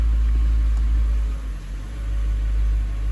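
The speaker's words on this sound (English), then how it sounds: "I'm gonna shift into all the gears. So I'm gonna go into reverse" A 2002-2005 Ford Thunderbird idles steadily with its engine running as the transmission is shifted into reverse, a constant low rumble with a slight dip midway and no voices.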